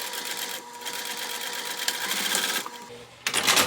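A sewing machine running steadily as it stitches a seam on a beauty bag, a close, rapid mechanical whir with a rhythmic needle chatter that pauses briefly near the end, then resumes with a louder burst.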